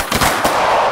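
Gunshots from a compact single-stack handgun during a close retention shooting drill, several sharp blasts in quick succession at close range, loud and echoing, with no voices.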